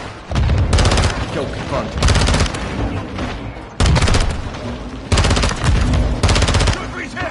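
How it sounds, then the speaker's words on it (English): Modern Warfare II combat with grenades launched amid gunfire: loud bursts of rapid automatic fire come in repeated waves with booms beneath, while soldiers shout over the din. "Take cover! They're launching grenades!"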